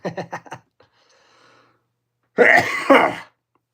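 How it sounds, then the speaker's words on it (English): Several short, sharp coughs in quick succession, followed by a pause and a louder raspy throat-clearing burst, close and alone. "Keeps coughing."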